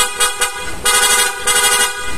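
A car horn on a motorcycle fitted with a TDD Night Ranger horn setup honks repeatedly in short, loud blasts with brief gaps, some bursts longer than others, close by and with no voices.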